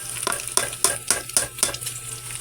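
Chopped onion and garlic hit hot rendered pork fat for pork humba, giving a crackling sizzle punctuated by a series of sharp, close scraping and stirring clacks.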